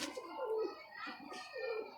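Pigeons cooing at close range, low throaty coos swelling and fading in several phrases over a faint steady background.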